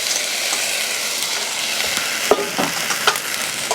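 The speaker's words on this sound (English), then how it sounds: "I'm just going to stir that up" A spoon stirs velouté sauce for a vegetable alfredo in a sauce pot, with steady soft scraping and a few sharper clinks close by, and no talking.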